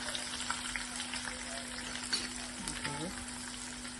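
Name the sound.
small onions frying in oil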